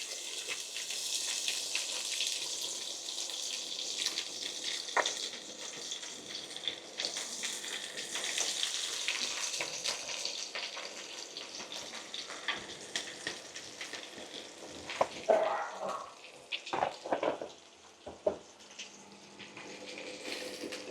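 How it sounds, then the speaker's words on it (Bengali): Chopped onions fry in oil with bay leaves, cinnamon, cardamom and cloves for a duck curry, a soft steady sizzle broken by a few louder stirring clatters near the end. "পেঁয়াজটা একটু লাল করে ভেজে নেব।"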